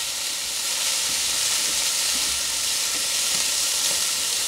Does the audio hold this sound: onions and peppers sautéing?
yes